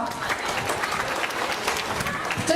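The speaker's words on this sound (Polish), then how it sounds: "brawo dla odważnych, brawa, no proszę Państwa, brawa!" Crowd applause for brave mothers taking part in a contest at a family festival, a steady, dense patter of many hands clapping close by, with voices mixed in underneath throughout.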